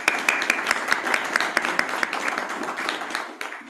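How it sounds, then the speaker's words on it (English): A meeting audience claps steadily for a few seconds, dense applause with a few sharper claps standing out, then it fades away. "Let's give them another round of applause."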